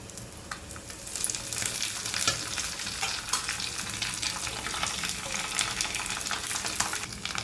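Curry leaves crackle and sizzle in hot oil in a pan, with a steady frying hiss and occasional scrapes of stirring, close up and without talk.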